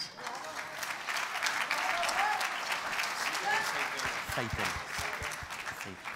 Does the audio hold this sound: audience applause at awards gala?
yes